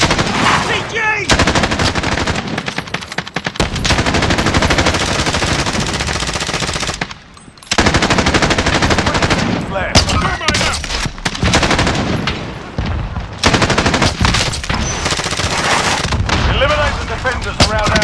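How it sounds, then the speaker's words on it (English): Gunfire in the video game Warzone, loud bursts of automatic weapon fire rattling almost without pause, broken only by brief gaps, with shouted callouts between the volleys. "I'm taking fire!"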